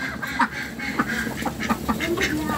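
A flock of domestic ducks quacking repeatedly in short, close, overlapping calls with a steady rhythm, a light murmur of background noise underneath.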